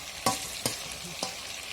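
Pork sizzles and fries in a new pan, a steady hiss broken by three sharp crackling bursts as the meat is stirred, close and loud with no talking.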